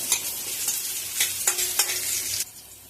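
Onions and curry leaves frying in a pan sizzle steadily up close while a spoon scrapes through them in a few quick strokes. A sharp clink and crackle comes near the end, then the sizzle drops away.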